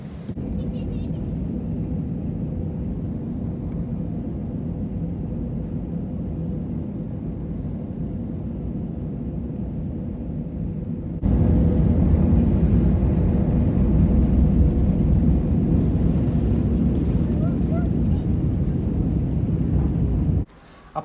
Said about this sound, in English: The plane took off northbound before rapidly turning east towards the Adriatic Sea